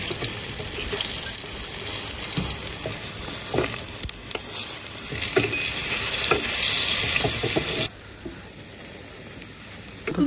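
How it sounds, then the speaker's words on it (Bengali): Bottle gourd leaves coated in gram flour frying in hot oil, a steady loud crackling sizzle with scattered pops and stirring scrapes, easing to a quieter hiss near the end. "ভালো মতন করে ভেজে নিয়েছি"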